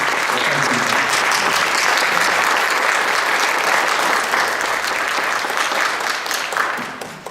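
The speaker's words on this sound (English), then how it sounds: "would you give her a big round of applause?" Dense, sustained applause from a large audience at a piano competition winners' concert, loud and steady for several seconds before tapering slightly at the end.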